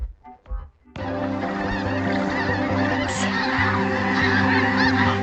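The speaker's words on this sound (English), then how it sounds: "Ross is woken up by a large flock of geese in the morning." A dense chorus of goose honks from a large morning flock bursts in after a brief rustle and keeps going loudly, many birds calling over one another.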